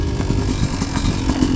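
A Yamaha YZ250 dirt bike engine buzzes loud and close in a steady, raspy drone with no pause and only slight wavering in pitch.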